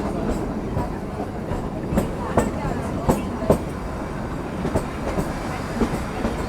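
Kalka–Shimla toy train in the Himalayas running on its rails, a steady rumbling roll with rhythmic clickety-clack wheel knocks on the track joints, close and continuous throughout.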